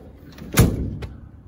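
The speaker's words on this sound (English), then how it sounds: "close the door" A Sprinter van door shuts with a single solid thud, close and fairly loud, followed by a softer knock or latch sound a moment later, with no talking.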